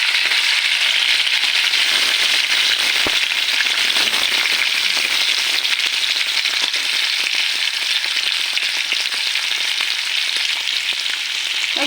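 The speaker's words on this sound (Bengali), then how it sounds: "হালকা করে ভেজে নিতে হবে" Shrimp frying lightly in a pan, a steady close sizzle and crackle that holds evenly from start to finish, with no talking.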